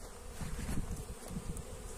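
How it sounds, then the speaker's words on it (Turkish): Many honeybees buzz in a dense, continuous drone as a swarm settles into an empty hive, a close, steady hum with no talking. "oradaki boş kovanın bir tanesine de oğul girmiş"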